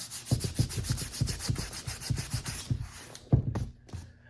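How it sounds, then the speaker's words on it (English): A hand rubs briskly back and forth over a smooth, dried air-dry filler repair, producing a rapid run of close, rhythmic swishing strokes that slow and fade to a few final rubs. "When I run my hand over it, it's nice and smooth"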